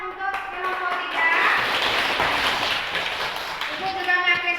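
A burst of group clapping from many children's hands in a classroom, steady and fairly loud for a few seconds, with voices at the start and end.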